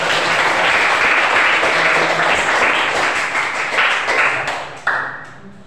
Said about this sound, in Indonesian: Terima kasih kelompok 3. Tepuk tangan.